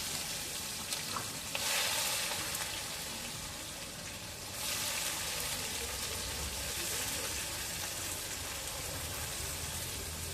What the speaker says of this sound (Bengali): পেঁয়াজটাও একটু নেড়ে চেড়ে লাল লাল করে ভেজে দেবো